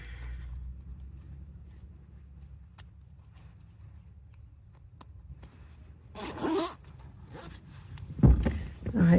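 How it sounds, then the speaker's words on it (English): Clothing zipper pulled up inside a car by a camper. Two short rasping zips near the end stand out clearly against a quiet, faintly rumbling background. "I'm going to zip up."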